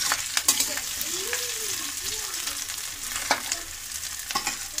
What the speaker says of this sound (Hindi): आलू वहाँ फ्राई हो रही है